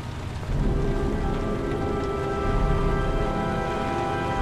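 Rain falls steadily in the video game Heavy Rain, a dense continuous patter on surfaces with a low rumbling undertone that thickens after the first half second, loud and unbroken, with no voices.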